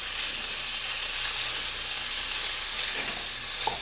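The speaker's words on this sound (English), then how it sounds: "while the hamburger is browning" Hamburger meat browning in a pan, a steady dense sizzle and crackle of frying that holds evenly throughout, close and continuous with no voices.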